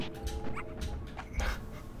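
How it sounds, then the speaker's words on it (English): A Bulborb creature in the Pikmin 2 video game gives short, soft barking yelps, a few quick yips in a row, close and moderately loud over a faint game background. "I love the little bark they do when they realize that there's somebody around"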